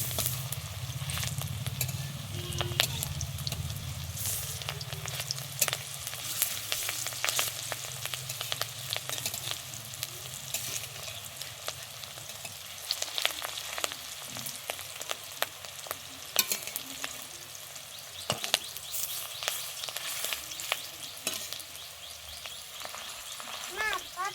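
Fish roe fried in hot oil in a pan gives a steady, close crackling sizzle with small pops throughout, and a voice is faintly present beneath it.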